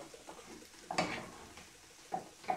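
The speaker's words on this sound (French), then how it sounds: "on mélange tout ça comme il faut" Pasta being stirred in a pot, about 200 g for a home recipe, with soft scraping and a few brief clinks of utensil against metal, close by and fairly quiet, without talk.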